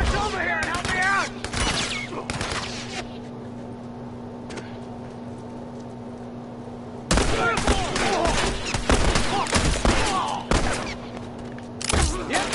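Loud bursts of gunfire erupt in The Last of Us multiplayer, rapid shots in clusters separated by a quieter lull, with other game sounds mixed in.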